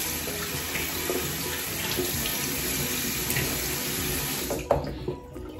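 Tap water runs steadily into a sink while someone rinses their face during a skincare routine, a continuous close splashing hiss that breaks off with a few louder splashes near the end.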